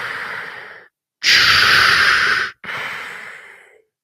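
Darth Vader's mechanical respirator breathing from Star Wars: Rogue One, heard as three loud, close, hissing breath cycles separated by brief pauses, with no talking.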